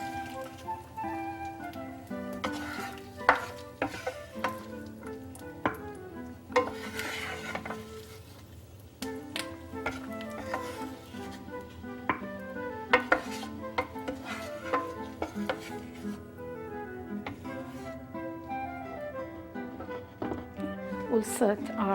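Pine nuts are scraped and stirred out of a frying pan, with repeated utensil scrapes and light clinks against the metal over a low background hum, and a faint sizzle underneath.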